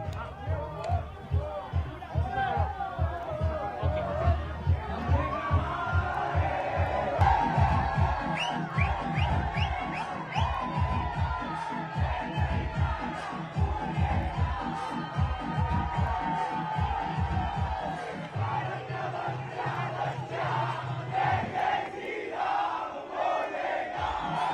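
A large crowd celebrating India's cricket win over Pakistan, chanting "Bharat Mata ki Jai" in rhythmic, repeated bursts of shouting with steady cheering and hubbub throughout.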